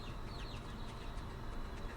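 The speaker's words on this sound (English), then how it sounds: "Your chickens are confused." Chickens cluck faintly on a farm in the video game Fable Anniversary, a few soft chirpy calls over a low background hum, no voices.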